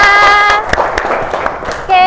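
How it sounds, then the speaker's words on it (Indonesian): A classroom of students claps hands together in a short burst of applause, overlapping excited voices and cheering from the group. "tepuk tangan untuk kita semua."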